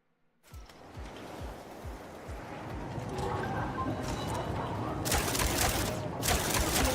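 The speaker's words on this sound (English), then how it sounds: "Is that gunfire I'm hearing?" A quick series of sharp gunshots crackles through a rumbling soundscape in the video game MindsEye, followed by louder bursts of noise.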